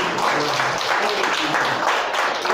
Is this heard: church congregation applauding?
yes